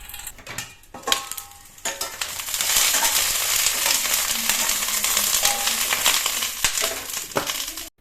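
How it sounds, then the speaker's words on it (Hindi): Brinjal sizzling as it fries in a little mustard oil, a steady loud crackle that sets in after a few clatters and stirring noises and keeps up throughout, with no talking. "इनको ना मैं थोड़े से सरसों के तेल में अच्छे से फ्राई कर लूँगी"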